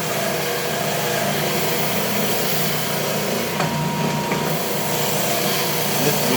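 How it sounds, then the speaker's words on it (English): A Ridgid belt/spindle sander runs on yellow pine, giving a loud, steady motor drone and grinding hiss. The noise stays even and continuous and carries no talk. "It takes a lot of torque to sand the edges or the corners of yellow pine"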